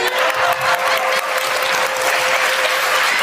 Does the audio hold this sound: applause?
yes